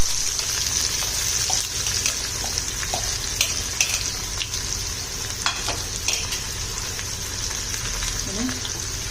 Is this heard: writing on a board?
no